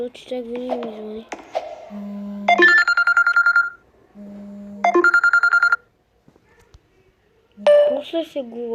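A phone ringtone goes off during a Roblox gaming session, repeating melodic beeping phrases in three loud bursts separated by gaps of near silence.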